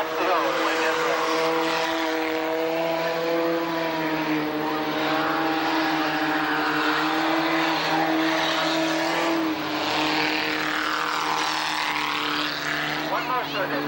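Race cars lap Tonopah Speedway in a 1989 main event, their engines holding a loud, steady drone that rises and falls as they pass, with an announcer talking over them.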